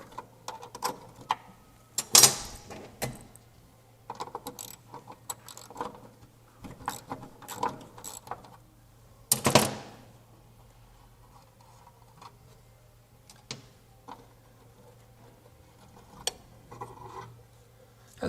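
A brake pipe union being slowly undone on a Triumph Spitfire: sparse metallic clicks, ticks and scraping taps from a spanner at close range, with a couple of louder clanks and long near-silent gaps between them.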